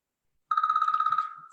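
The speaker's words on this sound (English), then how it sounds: "So somebody's phone is ringing." A phone ringtone sounds during a healing meditation session: a steady, pulsing electronic tone with rapid repeated beats, ringing for about a second before fading, with no talk over it.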